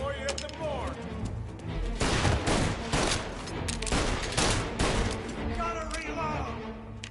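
Dense gunfire from the video game Mafia Definitive Edition, with rapid overlapping shots and bursts that are loud and continuous. Shouting voices mix in with the shooting.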